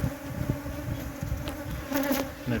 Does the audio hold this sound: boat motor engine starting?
no